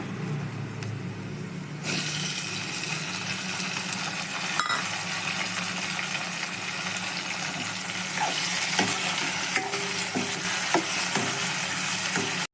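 Onions, then tomatoes, sizzling in oil with green chillies and curry leaves for Maggi masala noodles. A steady, hissing fry starts after a quiet moment and swells louder near the end, with occasional stirring clicks.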